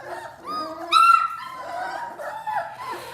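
Several puppies whimper and yip together at close range, with high, wavering cries overlapping in a short, restless series and one sharper, louder yelp among them.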